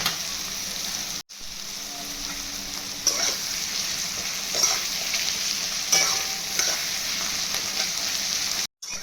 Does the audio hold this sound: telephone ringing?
no